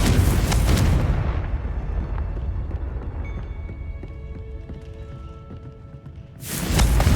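A Confringo blasting spell going off in Hogwarts Legacy, a heavy booming explosion that rings out and slowly decays into a rumbling tail before a second loud burst hits at the end.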